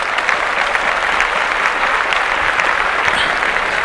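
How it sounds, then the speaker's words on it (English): Clapping applause on a podcast, loud and close, a continuous dense patter of hands with individual sharp claps poking through, sustained steadily without voices over it. "I'll clap that up again"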